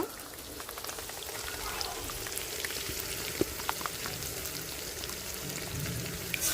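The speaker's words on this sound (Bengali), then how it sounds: "মশলাটা একদম ভালোভাবে কষানো হয়ে গেছে যে দেখেন মশলার গায়ে থেকে তেলটাও ছাইরা দিচ্ছে টমেটোটাও কিন্তু ভাজা হয়ে গেছে" Spice paste and tomato frying in oil, a soft, even crackling sizzle with scattered pops and faint stirring, fairly quiet throughout.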